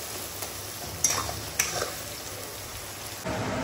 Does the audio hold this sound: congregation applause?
no